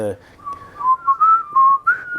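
People whistle the Happy Birthday tune, clear and fairly close, with a few held and rising notes and a brief burst of other sound at the start.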